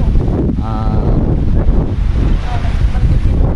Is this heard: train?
no